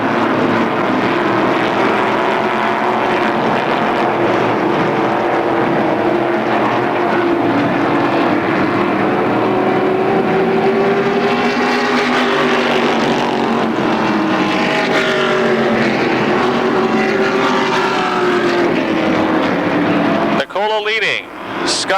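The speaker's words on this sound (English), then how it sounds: "Paul Urso to 37 trying to make the pass for fourth as they head down the front stretch" Late model stock cars roar down the front stretch at Motordrome Speedway, a loud, sustained engine drone with rising and falling pitch sweeps as the pack passes, while a commentator talks over it throughout.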